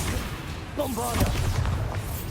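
A Bombarda blasting spell in Hogwarts Legacy erupts with a booming explosion and rumbling low end, while a voice shouts over the blast.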